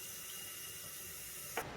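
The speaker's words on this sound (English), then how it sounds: "I'm using Dawn with some warm water, scrub it with a kitchen sponge" Warm water runs steadily from a kitchen faucet as Dawn-washed furniture handles are scrubbed with a kitchen sponge, a constant close hiss ending with a brief clatter.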